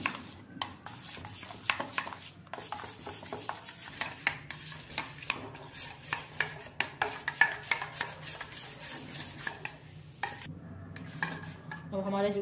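A spoon stirs paneer and sweet corn batter in a bowl, giving a steady run of soft scraping and clinking strokes, close and alone with no voices.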